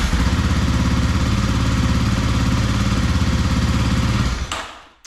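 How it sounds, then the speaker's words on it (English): A Kawasaki KLX motorcycle engine, stripped of its California smog and pair-valve equipment, runs loud and steady at a rough, throbbing idle close by, then cuts off and quickly fades to quiet. "one of the very last things to do is to start it and make sure that it actually starts and runs"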